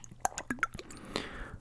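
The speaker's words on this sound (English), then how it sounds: "we're going to pair a little bit of splishing and splashing water sounds" Water splashes and drips close to the microphone in an ASMR clay roleplay, a series of soft plops, drips and wet squishes, quiet and intimate with no talking.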